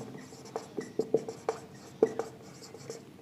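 A pen writes on paper in close, soft scratches and taps, a string of short irregular strokes over a faint background hum.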